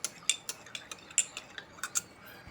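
A metal spoon stirs sugar into a cup of milk, giving a run of light, regular clinks against the cup at close range, with no voices.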